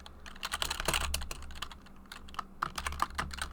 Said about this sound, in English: I'm gonna use my keyboard so everyone's gonna hear it in the after action report